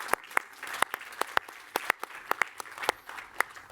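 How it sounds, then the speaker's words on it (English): A small conference audience claps steadily, with a string of distinct sharp hand claps heard fairly close and no talking. "Please give a round of applause to Isabel Paradis, our Master of Ceremonies"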